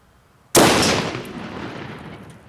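A single loud rifle shot firing a 125 grain Nosler ballistic tip cracks sharply after a moment of quiet, then rolls away in a long, fading outdoor echo.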